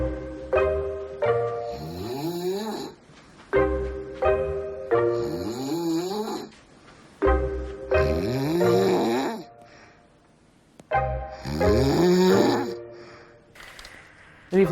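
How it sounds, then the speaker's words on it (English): Loud snoring close up, several long rasping breaths repeating in a slow rhythm with brief quiet gaps between them. "She woke me up at 5 o'clock in the morning snoring."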